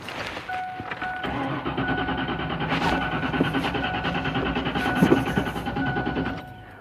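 A car engine with a fuel issue runs roughly, a steady droning idle with uneven pulsing and occasional stumbles, close and continuous, with no voices over it.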